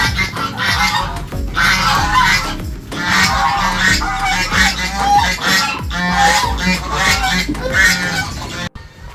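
Ducks on a farm honk and quack repeatedly, loud and close, in overlapping nasal calls that come in quick irregular bursts with short pauses between.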